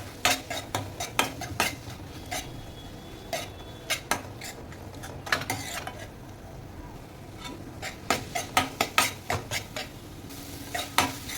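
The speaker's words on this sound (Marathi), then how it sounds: "छान आलं लसूणची पेस्ट आणि मिरचीची पेस्ट ही मस्त परतून झाली आहे." Ginger garlic paste and chili paste sauté in a pan while a spoon scrapes and clatters against the metal in uneven bursts over a soft, low sizzle.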